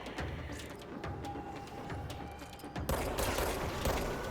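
Gunfire in the video game Control: rapid, sharp shots crackle in quick succession, then a louder, denser burst of firing and impacts takes over partway through, with no talk heard.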